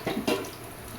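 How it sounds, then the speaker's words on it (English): Tap water runs over hands being rinsed in a kitchen while cooking bhajias, a soft steady wash with two brief louder splashes near the start, close and without talking. "I'm rinsing my hand"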